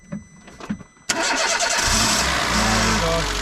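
Old car engine with a battery at 25% charge cranking briefly, then catching and running loudly at close range with a steady, rising rev, after a few quiet sounds and some talk beforehand.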